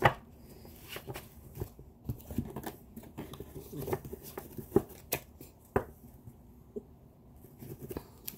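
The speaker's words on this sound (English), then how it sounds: "They're nice and bendable to shuffle" Flexible oracle cards are shuffled and handled close by in a quiet room, producing irregular soft riffles, taps and flicks with short pauses in between.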